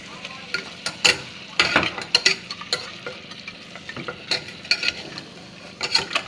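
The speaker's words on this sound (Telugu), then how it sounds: "కొద్దిగా పసుపు, సాల్ట్ వేసుకొని బాగా కలుపుకుందాము." Mutton being stirred in a pan with masala, turmeric and salt, giving irregular scraping and clattering strokes over a low sizzle, close and fairly loud, with no talking.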